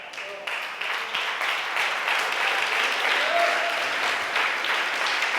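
A church congregation gives warm, sustained applause during a sermon, a dense, steady roar of many hands clapping that swells slightly and holds at an even, fairly loud level.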